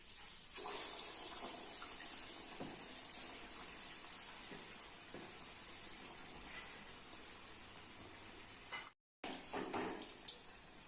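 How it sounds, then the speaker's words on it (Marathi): Vada dumplings dipped in batter and deep-frying in hot oil in a wok, giving a steady, close hiss and crackle of bubbling oil throughout, with a brief dropout near the end. "आपण वडे तळायला घेऊयात."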